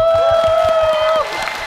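A live game showcase audience applauds and cheers loudly in a dense, sustained burst of clapping with whoops, while a sustained tone rings over the crowd.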